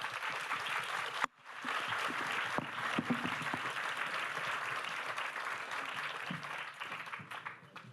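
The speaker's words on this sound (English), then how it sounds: "Round of applause for the panel." An audience at a business conference stage claps for a panel, a full, sustained round of applause that starts abruptly after a brief cut and continues steadily, tapering slightly toward the end.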